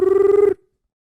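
A Porsche Taycan in electric drive mode gives off a loud, steady synthetic tone lasting about half a second, with bright harmonics stacked above it, before cutting off abruptly into silence.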